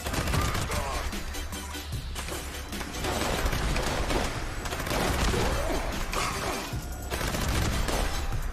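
Rapid gunfire from a Flim Flam weapon in Fallout 76 PvP combat, dense sustained bursts of shots with brief gaps, loud and continuous throughout.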